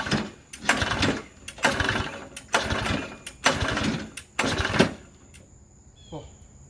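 A Briggs and Stratton engine on a homemade airplane is cranked over and over in five or six rhythmic bursts without catching, each burst ending abruptly, followed by quieter noise and a faint voice.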